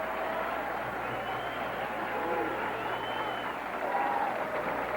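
Bowling crowd applauding and cheering a perfect 300 game at a 1969 PBA tournament in San Jose, a steady roar of clapping and voices in a large hall that holds through the whole stretch and swells briefly near the end.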